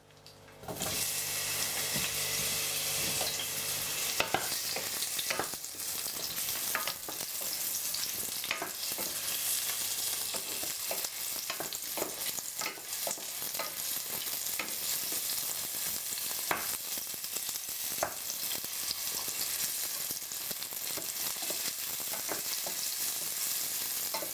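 Garlic and a medium white onion hit hot olive oil in a pan, sparking a sudden loud sizzle that holds as a dense, continuous crackle, with frequent scraping and stirring clicks throughout.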